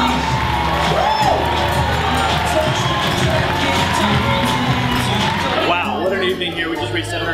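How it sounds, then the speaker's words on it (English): At a record-breaking charity fundraiser gala, a large audience cheers, whoops and shouts loudly in a dense, sustained crowd roar that fades slightly toward the end. "give a huge round of applause"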